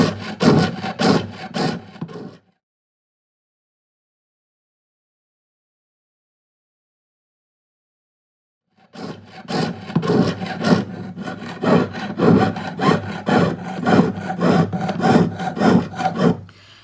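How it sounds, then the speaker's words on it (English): Rhythmic back-and-forth sawing of a jeweler's saw cutting silver in two bursts separated by a long silence, each stroke a rasping scrape, close and steady. "I'm sawing on the outside of the line."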